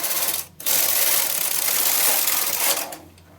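A knitting machine carriage slides across a row of needles with a continuous loud whirring, rasping clatter lasting about two and a half seconds, following a brief stop and fading out at the end.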